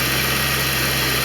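A 1989 Corvette roadster engine idles steadily after being fired up, a constant low rumble with a faint vibrating hum, close by and heard alone.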